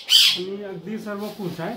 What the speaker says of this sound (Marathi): पाठी पोपट ओरडतोय